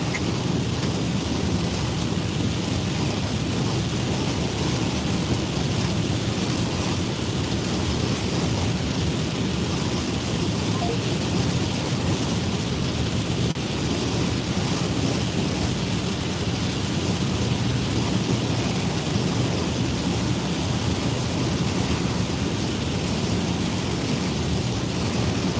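Heavy rain pours down in a thunderstorm, a dense, constant hiss with a low rumbling undertone that stays steady and loud from start to finish, with no one speaking.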